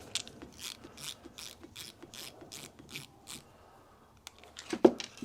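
A screwdriver works a brass screw out of a Stuart engine crankshaft during restoration, giving a faint series of rhythmic clicks and scrapes, about a dozen evenly spaced turns and then a few louder knocks.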